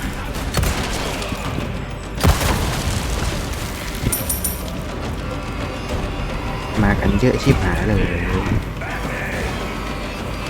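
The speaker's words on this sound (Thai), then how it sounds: "อุ้ยระเบิด" Repeated explosions and booming blasts from Resident Evil 4 Remake, with gunfire-like bursts and a grenade going off, while someone talks excitedly over the action.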